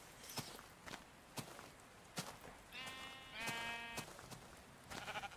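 Blocky sheep in Minecraft Beta 1.7.3 bleat in short wavering calls among soft, regular footsteps on the ground, quiet and fairly close, with no talking.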